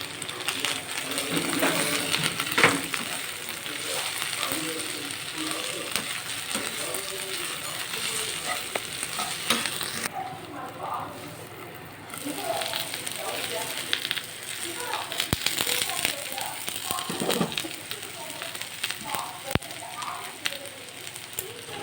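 Potato fries cooking in hot oil in a home kitchen pan give a steady, dense crackling sizzle throughout, with scattered sharper pops and a brief dip in the hiss partway through.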